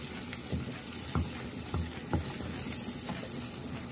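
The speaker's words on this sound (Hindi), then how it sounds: "सभी मसाले को अच्छे से मिक्स कर हम भून लेंगे" Ground coconut and onion paste with spices frying in a pan, a soft steady sizzle with a few sharp clinks and scrapes of stirring at irregular intervals, close and fairly quiet.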